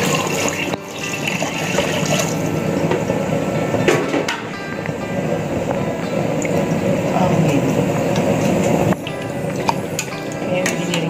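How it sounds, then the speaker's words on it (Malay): Water pours steadily into a pressure cooker holding deer bones for soup, a continuous gushing and splashing stream lasting several seconds with brief breaks and small knocks. "Saya nak masukkan air guys."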